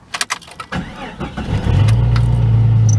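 A Jeep Cherokee with bad alternator bearings cranks with a few rapid starter churns, catches on the first try, and settles into a loud, steady idle carrying a persistent droning whine.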